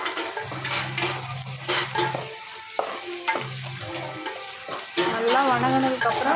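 A chili powder and salt mixture is stirred into a dish in a pan, with scraping utensil strokes, clinks and a sizzle. Talk is heard in places.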